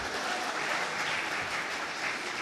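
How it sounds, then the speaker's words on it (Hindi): Studio audience applause at an interview with a state education minister, a continuous, even patter of many hands clapping at moderate volume with no speech. "खुल के बजाओ ना ताली अगर मन कर रहा है।"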